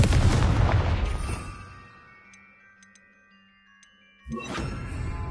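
A Confringo blasting spell in the Hogwarts Legacy game erupts in a loud booming explosion that fades over about two seconds, leaving faint ticking and chiming, before a second heavy blast hits.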